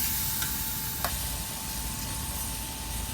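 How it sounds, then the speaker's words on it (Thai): Beef stir-frying in a wok with fingerroot, kaffir lime leaves and a splash of water, giving a continuous loud hiss and sizzle with a brief stirring scrape, no voices. "นี่ครับผัดให้ดอบกลิ่นของเนื้อก่อนนะฮะ"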